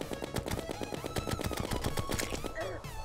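Rapid bursts of gunfire fire at the player in the Terraria video game, a dense, steady rattle of repeated shots running throughout with a few higher tonal game effects layered in.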